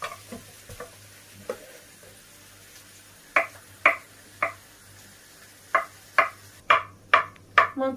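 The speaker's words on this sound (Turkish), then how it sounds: "Ben mantarıma doğramaya devam edeyim canım" A knife chops mushrooms on a cutting board, with sparse taps at first and then a run of crisp, evenly spaced strokes, close and distinct over a faint background hum.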